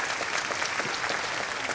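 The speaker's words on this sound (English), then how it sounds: "Let's give another round of applause." Steady applause from an audience at a senior women's pageant in Washington DC, a dense wash of clapping that holds evenly for the full moment.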